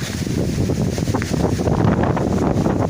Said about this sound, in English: having a crazy windstorm today. Woo-wee. It is windy.